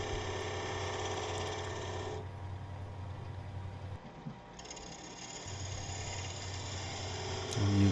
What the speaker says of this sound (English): I'm using, I think, a 3/8 inch bowl gouge for this.